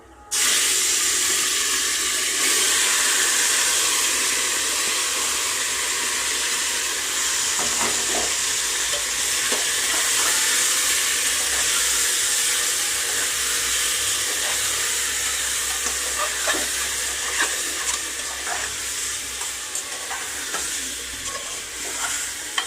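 Marinated chicken fries in a pressure cooker with whole cardamom and cinnamon, a loud continuous sizzle starting abruptly and carrying on with scattered crackles and occasional stirring scrapes, gradually easing slightly toward the end, with no talking.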